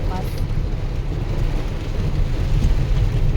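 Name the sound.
heavy rain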